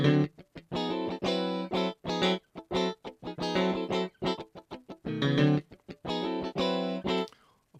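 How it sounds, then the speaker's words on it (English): An electric guitar recorded in Cubase with its virtual amp switched off plays a funky rhythm of short, choppy chord stabs and muted strums, tightly repeated and heard alone. "If we switch the amp off, then the guitar will sound like this."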